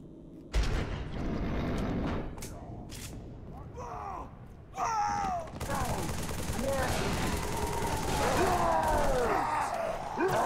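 Gunfire in the video game Halo 3: dense bursts of shooting and rapid fusillades, loud and near, mixed with chirping in-game sound effects and vocal sounds.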